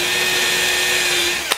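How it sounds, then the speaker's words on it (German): A cordless drill bores a straight hole in wood with a loud, steady, close whine that runs unbroken, then ends in a short burst. "Und so könnt ihr dann exakt gerade bohren, wenn ihr von oben guckt."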